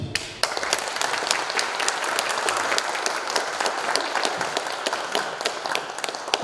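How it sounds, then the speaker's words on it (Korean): Steady applause from land and property owners at a residents' briefing meeting fills the room, dense and continuous with crisp individual claps standing out throughout. "토지등 소유자 여러분, 정말로 큰 박수로 환영해 주십시오."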